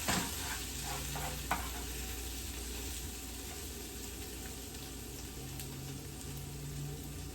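Peppers sizzle steadily in a hot frying pan, with a few clicks and scrapes of stirring near the start and a faint low hum running underneath.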